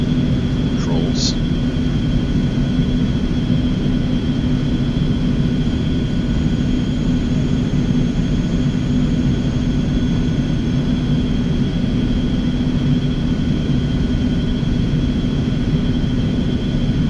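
An Eclipse 550 business jet taxiing at Las Vegas in the X-Plane 11 flight simulator, giving a steady, loud, unchanging engine drone with a constant whine throughout.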